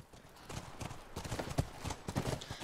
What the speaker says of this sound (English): Where are the horses? Come on. Back to the horses.